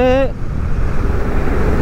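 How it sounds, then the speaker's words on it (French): Wind buffeting the microphone while riding a Dualtron Victor Luxury Plus electric scooter at speed, a steady broadband roar that runs for nearly the whole span right after a brief spoken word at the start. "il y a pas mal de vent quand même"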